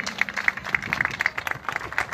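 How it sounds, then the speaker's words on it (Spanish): Scattered audience clapping at a live show by a band in Posadas, uneven claps of moderate loudness over about two seconds with some background murmur. "Fuerte el aplauso."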